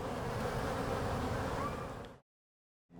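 Dense, steady buzzing of a honeybee colony inside a house wall during a bee removal job in Denver, Colorado, a loud continuous drone that cuts out abruptly near the end before faintly returning.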